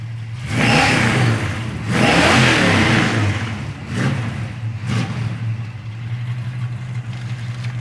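A 1972 Plymouth Scamp with a 360 cubic inch V8 revs hard twice, then gives shorter blips before settling to a steady rumbling idle, loud and close with no talking.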